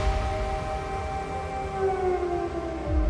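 Air raid sirens wail across Kyiv during wartime, a steady, sustained tone drifting slightly in pitch over low rumbling city background, with no voices.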